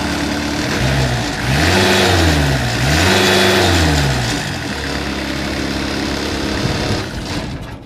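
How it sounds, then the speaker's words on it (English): 2007 FINN B70 engine revving up twice in quick rising-and-falling swells, then settling back to a steady loud idle, close by with no voices. "Engine runs excellent."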